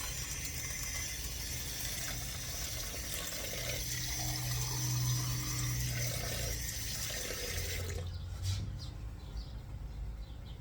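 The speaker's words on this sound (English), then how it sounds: "you are going to add water till it goes up to the 2 cups right up there" Cold tap water runs steadily into a pot in a kitchen while pasta and macaroni and cheese are prepared, a continuous faint hiss and splash that shifts slightly in tone as it fills.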